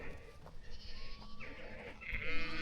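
A couple of young lambs bleat in a countryside field beside a fence, with a few short, wavering cries fairly close by over quiet outdoor background.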